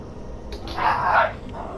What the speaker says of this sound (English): Why are dogs barking?